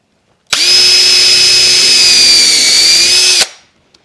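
Cordless drill boring through thick plastic for a table saw infeed extension, one steady high-pitched whine of about three seconds that starts and stops abruptly, loud and close.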